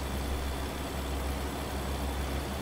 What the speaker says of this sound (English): I've got pedal to the metal, but the engine sounds a little off